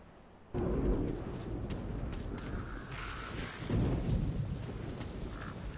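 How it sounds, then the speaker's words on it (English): Thunder from a lightning strike in the video game Metro: Last Light, a sudden loud rumbling crack that rolls on over steady heavy rain, with a second swelling boom later and no talking. "Lightning strike."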